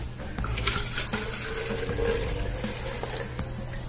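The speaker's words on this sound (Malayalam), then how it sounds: "ഈ കുപ്പിക്കകത്തോട്ട് നമുക്ക് കുറച്ച് വിനാഗിരി ഒഴിച്ചു കൊടുക്കാം." Vinegar pours steadily into a bottle set in a bowl, a continuous close liquid trickle and gurgle lasting a few seconds without speech.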